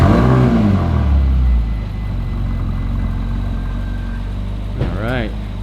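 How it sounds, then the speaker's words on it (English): A 2010 Ferrari California's engine fires up with a brief whirring crank and loud, deep rev, then settles into a steady low idle heard up close from outside, with a short mechanical whine near the end. "My lovely assistant Josh is going to turn on the car and open the top for you"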